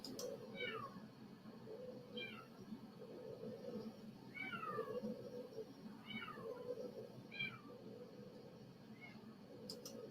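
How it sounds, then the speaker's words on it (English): A cat meows repeatedly outdoors, wanting to be let into the house: six short, rising-falling cries at a steady pace, moderately distant, over a constant low background hum. "that cat will not quiet. It wants in the house"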